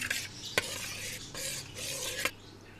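Spoon stirring chaat masala, black pepper, red chili and salt together in a bowl, a close scraping swish with a few sharp clinks against the bowl, no talking.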